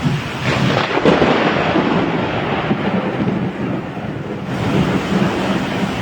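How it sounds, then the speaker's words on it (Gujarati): Heavy rain in Halvad town roaring with a deep rumble of thunder, loud and continuous, with gusty wind buffeting the microphone. "કડાકા ભડાકા સાથે વરસાદ જોવા"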